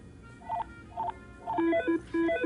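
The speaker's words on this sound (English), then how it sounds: "So a triple ring, that's Belcore DR3, and cordless phone is here, listen." A cordless phone on a Verizon Wi-Fi calling line rings with the Bellcore DR3 priority-call pattern: three short electronic ring bursts in quick succession, the tone stepping between pitches, clear and close with no talking.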